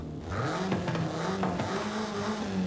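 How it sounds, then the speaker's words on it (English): A car engine in Forza Horizon 5 growls and revs steadily with a deep, throaty intake roar, rising and falling slightly, no talking. "Oh, look at that induction growl."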